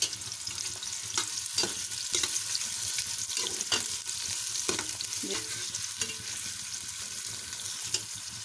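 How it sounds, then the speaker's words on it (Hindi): Two medium chopped onions frying in about four spoons of oil, with a steady sizzle under repeated scraping strokes of a spoon stirring them around the pan, no voices. "ये मैंने 2 मीडियम साइज़ के प्याज काटे हैं, ये डाल दें। मिक्स करें।"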